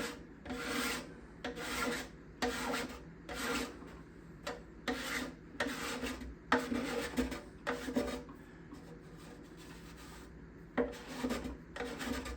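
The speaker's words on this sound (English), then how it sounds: "Now, as I'm scraping, I'm also visually monitoring how thin the binding is getting in relationship to the purfling." Steel scraper drawn along the back binding of a guitar, a run of close rasping strokes of about a second each in an uneven rhythm, with brief pauses between them and no speech.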